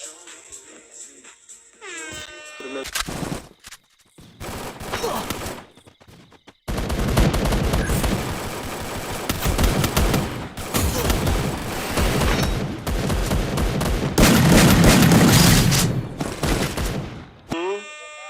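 Gunfire in the mobile battle royale game Free Fire comes in loud repeated bursts and rapid volleys with brief gaps, dense and close for most of the stretch, without talk.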